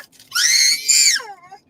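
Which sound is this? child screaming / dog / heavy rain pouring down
child screaming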